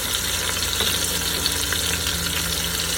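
Short ribs brown in an Instant Pot with a continuous, fairly loud, even sizzle and a few soft clicks of pieces shifting, with no speech.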